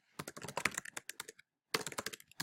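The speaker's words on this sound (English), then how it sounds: "Oop, I cannot type today." Rapid typing on a computer keyboard, with a quick burst of close, crisp keystrokes, a brief pause, then another flurry of clicks, and no talking.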